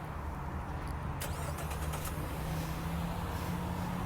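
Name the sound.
Jeep Renegade 2.4 liter TigerShark engine remote starting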